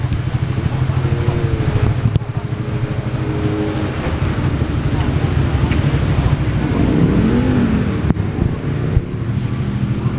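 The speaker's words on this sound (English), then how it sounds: "Everybody's getting tested here to make sure that their bikes aren't too loud." Motorcycle engines running at a track day noise testing bay at Cadwell Park: a loud, continuous throbbing idle with a rising rev swell partway through, heard close up alongside a voice talking.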